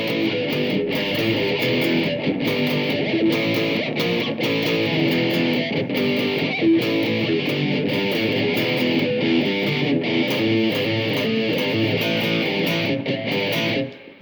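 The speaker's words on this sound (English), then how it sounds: "It's a really cool power chord study, a lot of palm damping inside there, or muted notes" Distorted electric guitar plays a power chord study with heavy palm muting, chugging muted notes and chord stabs in a steady driving rhythm, loud and continuous on its own throughout.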